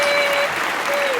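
Steady, dense applause with a faint tonal ring running through it, greeting a guest on a living-room talk show celebrating queerness.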